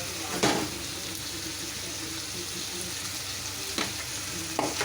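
Carrots and capsicum sizzle steadily in hot oil in a pan while chowmein is being made, with a few sharp clatters of stirring and the utensil knocking against the pan. No voices are heard.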